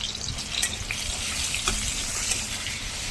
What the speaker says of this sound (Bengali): এই যে তেলের মধ্যে কাঁচা লঙ্কা কুচো দিয়ে দিলাম, একটু আদা বাটা দিয়ে দিলাম